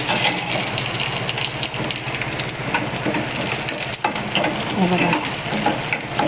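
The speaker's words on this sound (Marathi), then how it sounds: "मिरची आणि लसूण चांगलं भाजून घ्यायचं." Green chilies and garlic roasting in a hot pan, with a steady close sizzle and frying crackle throughout, scraped and stirred now and then, and a brief spoken word over it.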